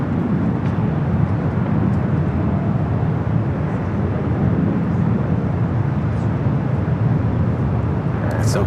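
Boeing 787 Dreamliner airliner at LAX rolling out after landing: a steady, broad jet roar that holds loud and even for the whole stretch, with faint chatter in the background.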